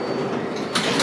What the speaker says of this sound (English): I'm starting off this vlog in the train.